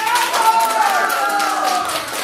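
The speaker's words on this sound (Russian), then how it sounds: "Еще раз бурные аплодисменты." Enthusiastic applause from a concert audience for a soloist of a folk dance ensemble, dense steady clapping filling the moment with speech-like sound mixed in.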